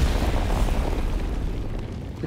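An explosion in a video game, a loud, deep rumbling blast that fills the stretch and slowly fades, with no talk.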